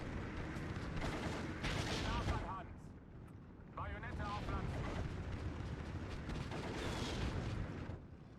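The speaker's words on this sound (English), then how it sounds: "mortar fire's coming in on them" Mortar fire rains down in the Steel Division 2 wartime strategy game, with dense rumbling blasts and crackling gunfire running almost without a break, one short lull partway through, loud and close under a voice.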